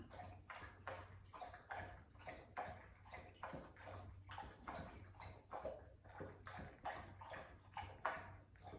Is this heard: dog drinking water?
yes